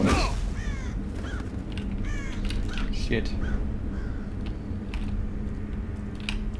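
Crows caw repeatedly in Thief (2014), harsh calls rising and falling over a dense ambient game backdrop, with a brief muttered exclamation from a voice.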